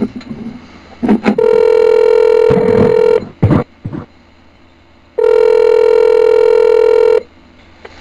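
A telephone keypad dials a toll-free number with a quick run of touch-tone beeps, then a steady tone holds for about two seconds. After a pause, another long, loud tone sounds alone.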